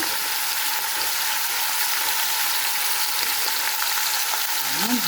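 Pancit stir-fries with ground pepper and shrimp, a constant bright crackling sizzle with light stirring sounds, close and steady without talking.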